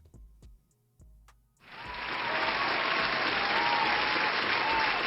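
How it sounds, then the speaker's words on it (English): A round of applause bursts in after a few isolated sharp ticks and a quiet pause, then swells into a loud, sustained wash of dense clapping that holds steady to the end. "Round of applause for acknowledging that 50 was an"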